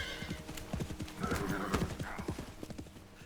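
Horse hooves clip-clop in a steady, close rhythm through a Metal Gear Solid Delta: Snake Eater game scene, with a whinny rising midway over the continuous trotting.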